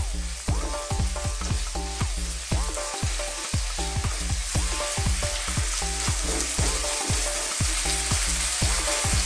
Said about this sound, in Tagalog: Ngayon po, isusunod na natin ang chili flakes at ang patis. Again, halo lang ng halo.